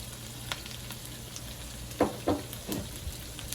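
Chopped mushrooms dropped into melted butter in a pan set off a soft steady sizzle, with a few louder hisses and spatters as they hit the fat, close and fairly quiet.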